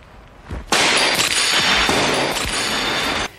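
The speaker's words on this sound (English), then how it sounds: "So let's break more windows." A glass window shatters with a sudden loud crash, followed by about three seconds of dense, bright tinkling and crackling as shards fall and scatter, ending abruptly.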